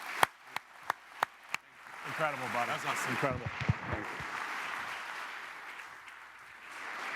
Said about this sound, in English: please give him a large round of applause